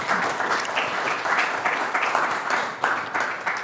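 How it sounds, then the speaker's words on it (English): An audience at a diplomatic protocol conference gives a round of applause, with moderately loud, lively clapping in slightly uneven bursts over a few seconds. "A big round of applause for him one more time."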